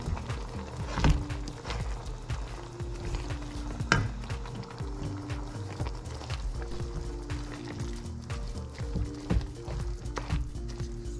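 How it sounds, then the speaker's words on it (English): A pot of laing with taro leaves bubbles on the stove, a soft, steady simmering and sizzling texture with occasional clinks and knocks of utensils, fairly quiet and close. "Now it's boiling, I'm going to add on the taro leaves."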